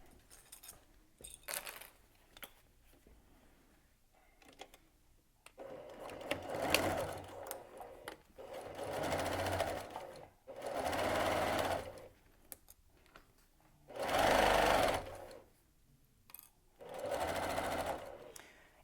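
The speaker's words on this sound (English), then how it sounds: "head to the sewing machine, and with your zipper foot installed, go ahead and stitch on the right side right here" A sewing machine fitted with a zipper foot stitches faux leather for a fringe purse in several separate bursts of whirring, each lasting a couple of seconds and separated by short pauses and quiet handling noises.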